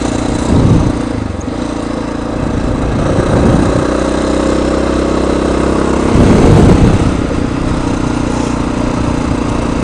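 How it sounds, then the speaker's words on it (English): Honda XR 650R motorcycle engine pulling steadily uphill on a dirt road up Mount Herman on a cold morning, a continuous loud drone with throttle surges near the start, middle and end; no talking. "So here I am on the XR 650R, going up Mount Herman"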